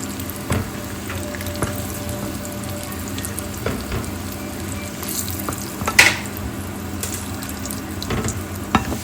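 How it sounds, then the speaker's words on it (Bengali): Egg curry masala frying in a pan, a continuous close sizzle with occasional stirring scrapes and a brief louder clatter, no voices. "এখানে ডিমের মশলাটা কষায় ফেলছি"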